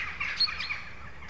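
Wild birds feeding on spilt grain give short, bright chirps and tweets at a moderate distance, a brief scattered burst of calls.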